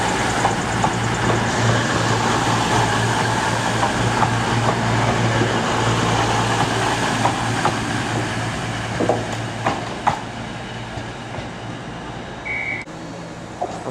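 A British Rail Class 221 diesel train, unit 221129, pulls into Leeds station on a service to Edinburgh, its engine droning and hum steady as wheels click over rail joints, with station noise and a brief high tone near the end.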